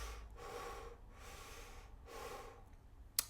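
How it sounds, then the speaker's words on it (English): Two slow, close breaths drawn high into the chest during a thorax-breathing demonstration for a harmonica lesson, each a soft airy rush, followed by a short sharp click at the end. "This is the thorax breathing. This is the air is going in from the top of the lung"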